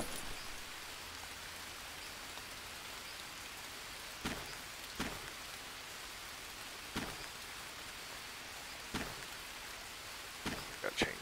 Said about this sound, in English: we need this to quit raining